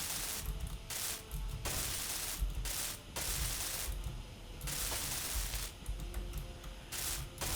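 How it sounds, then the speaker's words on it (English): Welding tool working on pieces in Space Engineers, a harsh hissing grind that comes in repeated bursts of about a second with brief gaps, close and fairly faint. "let me just weld all the pieces that I have right now"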